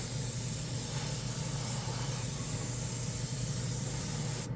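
A Testors airbrush sprays paint in a continuous, close, steady hiss that holds evenly throughout and cuts off right at the end.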